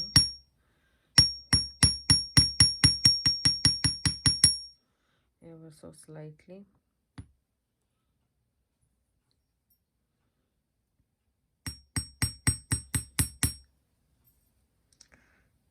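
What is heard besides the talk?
hammering jewelry wire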